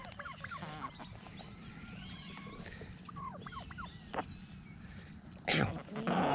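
A white chicken clucks and makes short throaty calls while being hand-fed seeds, fairly faint over outdoor background noise, followed by a louder rustle near the end.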